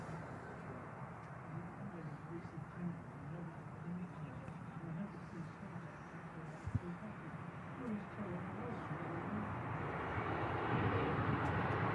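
Jet airliner engines at Manchester Airport, a steady broad roar that slowly swells louder toward the end, with people talking over it throughout.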